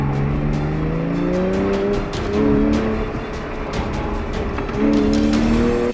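A Porsche 911 engine revs and drops through gears on an autocross course, loud and close, with tires squealing as it rounds a tight right-hand turn.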